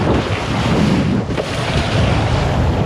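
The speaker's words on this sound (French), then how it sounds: "Là les gars ça souffle bien fort là." Strong wind gusting beside a river, a loud continuous roar buffeting the microphone with a brief dip partway through, no voices.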